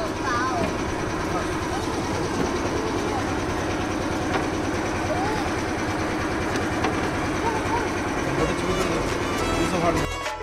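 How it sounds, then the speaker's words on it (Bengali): Tourist boat engine running steadily throughout a boat ride near a floating market in Pattaya, a continuous loud low drone with faint voices beneath it and a sudden drop near the end. "এবার আমাদের বোট চলছে, বোট রাইড করছি আমরা।"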